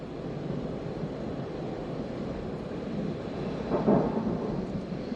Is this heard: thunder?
yes